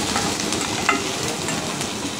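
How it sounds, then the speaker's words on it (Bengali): Whole cumin seeds fry in hot oil for a mango pickle, a loud, steady close sizzle with faint stirring scrapes. "গোটা জিরাটা দিয়ে তেলের সাথে একটু ভেজে নেব।"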